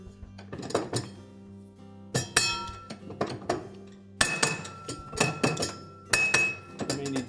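A nut comes off the drive shaft pulley of a GE washer, giving a series of sharp metallic clinks and taps in clustered bursts with ringing tones, separated by brief quiet gaps.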